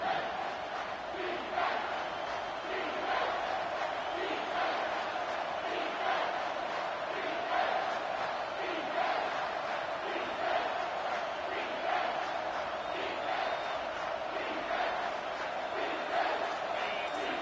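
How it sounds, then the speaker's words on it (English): A football stadium crowd roars steadily in support of the home defense during a red-zone stand, a broad sustained cheer heard from within the stands with no break. "The crowd getting behind this defense as they try to get a stop in the red zone."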